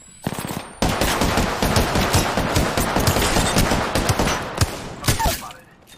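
Rapid automatic gunfire in Apex Legends erupts after a short opening burst, a loud close rattle of shots running several seconds and tapering off, with a voice briefly heard.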